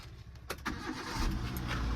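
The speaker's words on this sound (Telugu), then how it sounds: "సో నేనైతే ఇంజన్ అయితే స్టార్ట్ చేస్తున్నా" A 2015 Hyundai i10 petrol engine cranks with a couple of quick churning bursts, then catches and settles into a low, steady idle close by.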